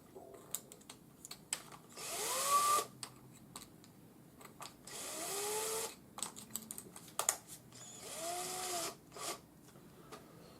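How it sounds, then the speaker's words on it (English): A cordless drill winds 2mm wire in its chuck to form 8mm jump rings, whirring up in three separate bursts with a rising pitch, and small clicks and taps in between. "So I'm just using a cordless drill."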